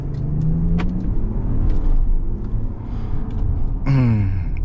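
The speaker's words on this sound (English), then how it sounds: "420 horsepower, little launch, uphill" A large Jeep Wagoneer SUV with 420 horsepower launches uphill: a loud, close engine roar that holds steady, then climbs sharply in pitch as it revs near the end.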